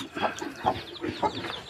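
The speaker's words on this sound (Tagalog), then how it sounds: "Ito naman po manok." Chickens on a rural Philippine farm cluck in short repeated bursts, fairly close, with no one speaking.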